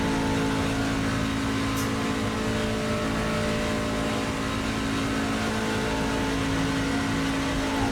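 Race car engine from the iRacing sim in a NASCAR Trucks or IndyCar session, a steady, loud sustained drone with a constant hum throughout and no talking.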